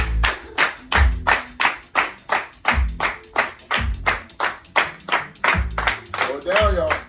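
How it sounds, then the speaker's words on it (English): A group claps steady eighth notes in a drumline teacher training session, with sharp, evenly spaced claps repeating through the whole stretch, loud and close, with some voices mixed in. "Clap 8th notes."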